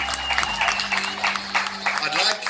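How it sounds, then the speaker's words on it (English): Audience applause at the opening of the first certified LEGO store in Africa, in a Sandton City shopping centre; a steady crowd clapping for a few seconds with voices and talk mixed in underneath. "Come on, a bigger round of applause for Hayley, Greg, and Rob."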